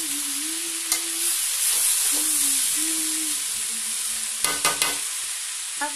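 Masala sautéing and being stirred in a pan, a continuous bright sizzle with occasional scrapes and clinks of the spoon, close and steady with no talk.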